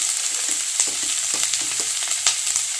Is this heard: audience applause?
no